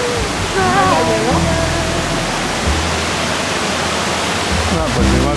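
The waterfalls at Tobera and Pedrosa de Tobalina pour in a loud, steady broadband rush, with people talking over the water noise.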